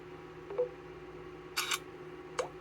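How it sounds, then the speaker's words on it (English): Ulefone Armor 27T Pro rugged phone playing a few selectable camera shutter sounds, short clicks and a brief electronic snap spaced apart over a quiet background hum, with no talking. "And you also have some different camera sounds you can choose."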